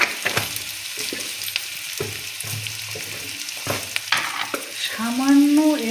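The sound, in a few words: frying onions with turmeric in a pan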